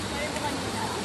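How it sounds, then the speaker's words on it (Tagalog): A river rushes in a steady broadband wash during a crossing on Kapigpiglatan Mountain, loud and continuous with no breaks. "nandito kami sa pagtawid ng ilog"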